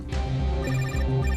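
A telephone ringing close by with a steady electronic warble, repeating tones pulsing in a quick regular pattern, loud and alone without speech.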